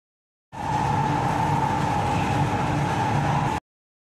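A metro train rolls along with a steady rumble and whine, a constant mechanical hum heard from inside the car, starting abruptly and holding level for a few seconds before cutting off.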